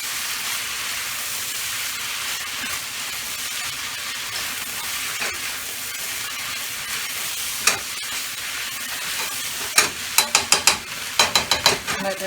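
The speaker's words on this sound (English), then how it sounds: "Let that cook up just a little bit more, and this is about done, y'all. Let it fry down a little bit" Fried rice fries in a pan with a steady close sizzle and hiss, and toward the end a burst of sharp spatula clicks and scrapes against the pan.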